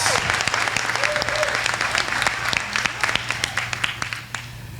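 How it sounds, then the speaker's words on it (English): Sustained applause from a dinner audience honoring service award recipients, dense and steady, with a low hum of the room underneath and scattered voices mixed in. "How about one more round of applause for all of our 20-year service award recipients?"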